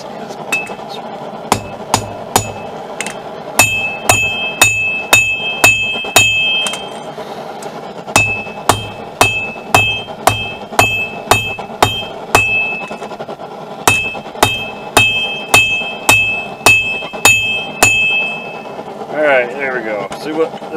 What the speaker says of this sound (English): That's why I brought out the bigger hammer.